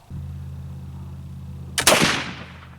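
A single loud black powder rifle gunshot cracks out after a low steady hum, followed by a long, fading boom and rumble.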